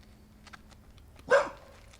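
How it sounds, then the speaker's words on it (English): A dog barks once, sharp and fairly close, beside a disc golf tee pad while a man walks it past, set against quiet outdoor ambience with faint ticking sounds before it. "that was a dog, like right next to the tee pad, a guy walking his dog."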